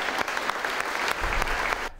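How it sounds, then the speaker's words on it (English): An audience claps steadily for a young woman named Sophie, a dense burst of applause lasting about two seconds before cutting off abruptly. "do you want to give a big applause for Sophie?"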